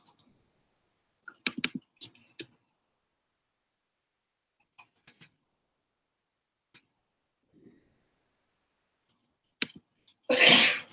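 A single loud, close sneeze bursts out near the end after several seconds of quiet, broken only by faint scattered clicks and taps in a room.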